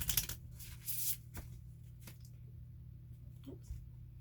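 A quick riffle of playing cards being shuffled, a couple of short papery bursts close up, followed by a few soft taps and handling noises.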